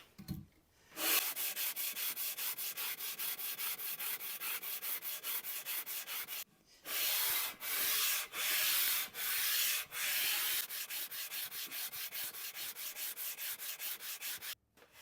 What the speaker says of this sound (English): After the sole has been lapped with 120 grit, I'll then replace the sandpaper on the table with some 220 grit wet dry sandpaper